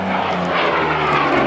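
A Curtiss P-40 Kittyhawk fighter flies at Temora, New South Wales, its piston engine a loud, close, throaty propeller roar that swells slightly as the plane passes, with no talk over it.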